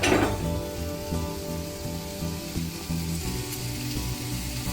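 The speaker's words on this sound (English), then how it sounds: "We're going to use this to push the garlic right into the pan" Garlic pushed through a garlic press into a hot pan, giving a steady close sizzle and fry that holds evenly throughout with a slightly louder start.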